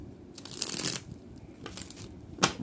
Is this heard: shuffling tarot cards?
yes